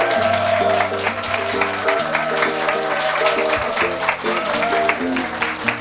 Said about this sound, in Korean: 박수 큰 박수로 맞아주세요.